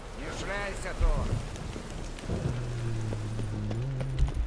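Steady rain patter in The Witcher 3: Wild Hunt runs throughout, with someone talking in Russian over it at first and a low droning tone sustained underneath in the second half.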